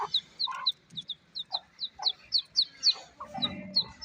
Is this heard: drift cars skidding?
no